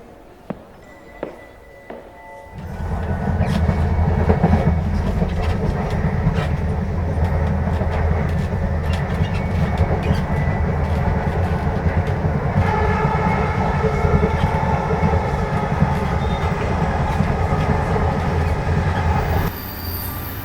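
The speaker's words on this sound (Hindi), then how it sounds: "मैं शाम की ट्रेन से नानी के घर जा रहा था।" A passenger train runs on rails as an evening-journey sound effect, a loud, steady rolling rumble with clacking wheels and high squeals that starts after a couple of quiet seconds and continues unbroken.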